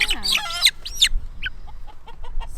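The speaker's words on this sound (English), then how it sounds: "So this was our free chick that we got with our meat birds." A young chick, a free bird that came with a batch of meat birds, lets out a burst of high, chirpy clucks, then a few quieter scattered peeps, close by.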